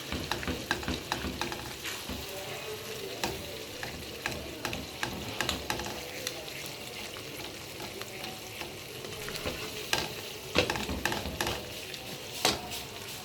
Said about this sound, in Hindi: अब मैं इसको साथ साथ थोड़ा मैश करती जाऊंगी घिया तोरी को।